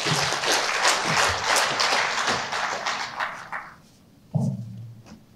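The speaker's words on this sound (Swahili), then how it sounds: "Kwani watumishi wanastahili makofi zaidi." Applause for court staff at a Judiciary of Tanzania workers' council meeting, a burst of clapping from a seated crowd that fades over a few seconds and ends with a single dull knock.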